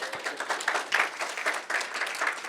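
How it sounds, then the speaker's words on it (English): Audience applause at a leadership talk, steady dense clapping throughout, moderately loud and fairly close, with no speech over it. "Give her a round of applause."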